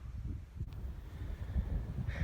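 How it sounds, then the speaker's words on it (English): Gusty wind buffets a microphone on a cold mountain summit at Mt Chocorua, a rough, fluctuating low rumble with no voices. "It's very windy and very cold"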